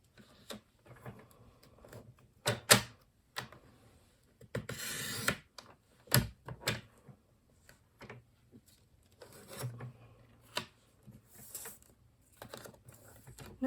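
A blade slices through a stacked pile of card paper in a handful of short crisp cuts and scrapes, with quieter shuffling and handling noises between them, close and fairly soft.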